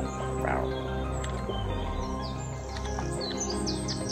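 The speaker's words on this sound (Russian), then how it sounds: "что так громко чирикает?" Bird chirping loudly in a video game, repeated bright tweets and short calls scattered over a steady low background hum, close and prominent for several seconds.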